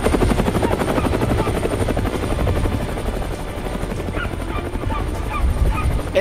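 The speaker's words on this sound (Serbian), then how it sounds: "opet helikopter" A helicopter flying close overhead produces a loud, steady rotor chop and engine whine that fill the whole stretch without a break.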